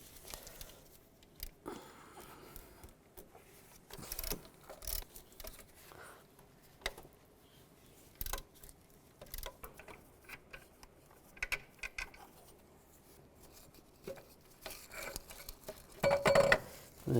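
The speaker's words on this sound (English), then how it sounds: "Now take the bolts out for the alternator. Use a 15mm socket." Ratchet with a 15mm socket loosening alternator bolts on a 2002-2009 Chevy Trailblazer, scattered soft metallic clicks and taps in irregular bursts, close and faint, with a louder clatter near the end.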